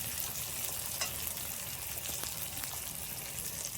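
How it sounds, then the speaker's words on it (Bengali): Small coconut pieces fry with spices in a pot for khichuri, a dense continuous sizzle close up with scattered sharp crackles and occasional stirring scrapes, no voices. "এই নারকেলটা দিয়ে দিচ্ছি।"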